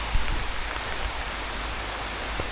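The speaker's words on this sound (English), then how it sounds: "Just checking in to say that the rain officially hit the last hour." Heavy rain falls steadily on a South Downs hike, a dense, even hiss of drops close around, with a few louder patters at the start and no voices.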